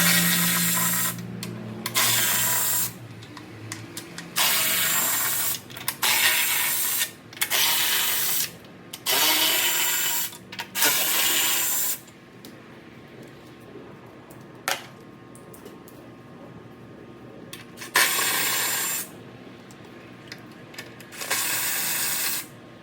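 A ratchet wrench works 13 mm bolts loose on the 3.6L engine of a 2012 Chrysler 300, sounding as bursts of rapid clicking separated by pauses, close and fairly loud, with no talking.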